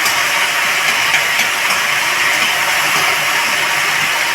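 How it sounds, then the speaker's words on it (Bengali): Taro flowers boil in a pot, giving a steady, loud, broadband hiss and bubbling rush that stays constant throughout with no pauses. "ফুলগুলো সিদ্ধ করার জন্য দিয়ে দিলাম।"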